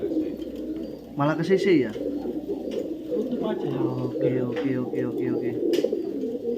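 Pigeons coo in a racing pigeon breeding loft in Sidoarjo, low rolling calls repeating throughout under steady conversation between men nearby.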